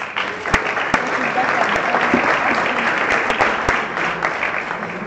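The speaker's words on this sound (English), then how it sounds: "You can clap." An audience applauds at a student congress after a candidate's speech, a steady wash of clapping with a few sharp, close claps standing out, with faint murmuring underneath.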